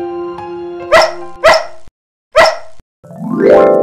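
A cartoon dog barks three sharp, loud times in an animated Vietnamese fairy tale of the little mermaid, followed by a rising whine-like sound. Nobody speaks.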